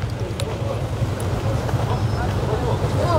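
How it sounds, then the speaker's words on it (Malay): Strong storm wind roaring steadily at a parking area in Bandar Baru Salak Tinggi, where a cabin has been overturned onto rocks; dense low buffeting rumble fills the whole stretch, with no talk over it. "Memang betul-betul kuat angin ni"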